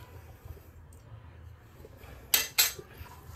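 A brass spoon clinks twice in quick succession, two sharp metallic taps close by, over a quiet low background hum.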